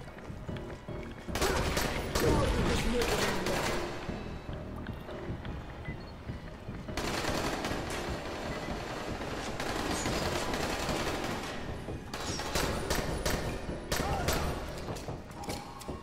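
Gunfire in the zombie video game Dying Light comes in rapid bursts of loud shots, broken by brief quieter gaps, with dense crackling volleys across the stretch.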